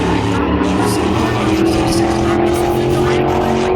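A winged sprint car engine screams around Berlin Raceway during qualifying, a loud, continuous high-revving drone with rising and falling pitch, heard at a distance under a public-address announcer's voice.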